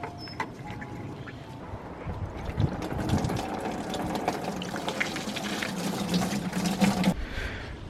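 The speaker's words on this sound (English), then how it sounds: "I'm just going to let that drain out even more because I can still hear it spilling a bit." Coolant draining out of a BMW E36 cooling system, a steady trickling, spattering stream with some faint mechanical rattles, continuous and close throughout.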